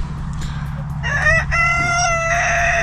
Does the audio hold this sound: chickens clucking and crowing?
yes